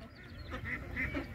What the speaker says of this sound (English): So many ducks everywhere.